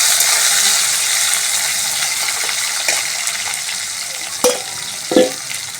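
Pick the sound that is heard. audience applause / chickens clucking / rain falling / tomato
tomato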